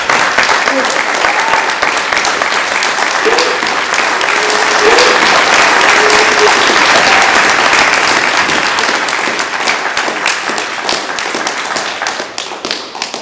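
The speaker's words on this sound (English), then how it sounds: "So could we have a little round of applause for them?" Audience applauding a panel at the close of a Q&A session: loud, dense clapping from a crowd that holds steady for about ten seconds and then thins out toward the end.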